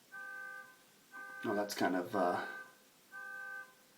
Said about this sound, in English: there's someone honking uncontrollably outside.